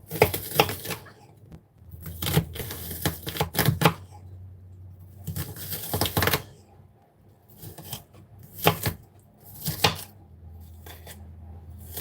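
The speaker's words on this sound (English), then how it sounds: "That didn't chop very well." A knife chops ingredients for meatloaf on a board in close, rapid bursts of tapping strokes separated by short pauses, with no talking.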